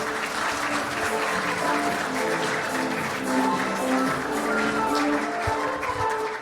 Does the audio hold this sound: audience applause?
yes